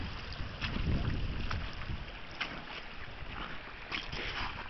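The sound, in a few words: cold wind blowing outdoors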